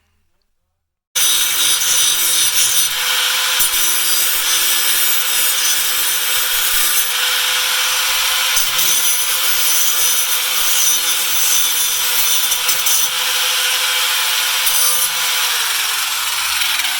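Power grinding of broken parts before a JB Cold Weld repair, a loud steady abrasive whine starting abruptly after a brief silence and continuing unbroken with a sustained motor tone underneath.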